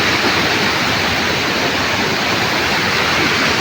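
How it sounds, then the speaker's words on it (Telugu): A waterfall seen from a viewpoint roars as a steady, dense, loud rush of falling water, unbroken throughout with no voices. "ఒకసారి వ్యూ పాయింట్ చూడండి, వాటర్ ఫాల్స్ ఎట్లా పోతుందో"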